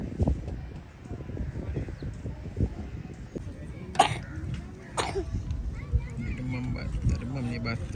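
A person coughs a couple of times, with two sharp bursts standing out amid children's voices and chatter on a road trip from Kuantan to Melaka.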